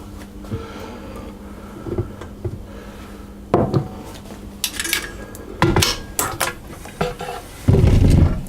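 A spatula scraping flour from the side of a mixing bowl while making passion fruit curd cupcake batter, with irregular scrapes, knocks and clinks of utensil against bowl, close and fairly loud, with no talking.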